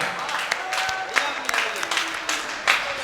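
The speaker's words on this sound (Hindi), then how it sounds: "वाह वाह वाह! जोरदार तालियां।" Scattered applause and clapping from a crowd at a Hindi kavi sammelan poetry gathering, uneven bursts rising and falling, mixed with some voices and crowd noise at a moderate level.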